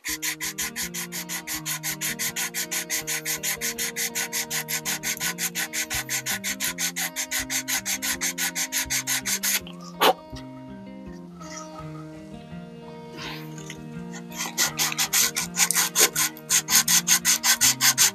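Rapid, rhythmic back-and-forth sanding strokes work an epoxy grip cap on the wooden stock of an HW95 air rifle, close and steady, pausing briefly near the middle before resuming.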